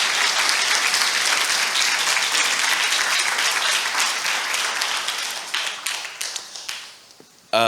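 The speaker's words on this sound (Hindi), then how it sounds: "आइए हम इस वचन के लिए ताली बजाएंगे जोर से" A church congregation bursts into loud, sustained applause, a dense wash of many hands that stays strong for several seconds, then thins into scattered individual claps before stopping.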